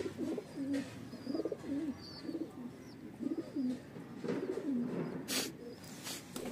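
Pigeons in a breeding setup coo in repeated, rhythmic low calls, close and steady, with faint chirps and rustling in the background.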